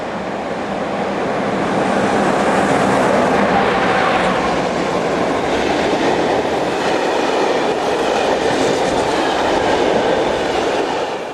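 Locomotive number 2014 hauls a Germany-bound container train southbound, a loud, steady rumble with rhythmic wheel clatter close by that swells and holds as the long freight rolls past.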